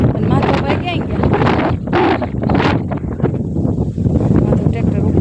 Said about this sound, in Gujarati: એ સુપર ડુપર પવન આવે છે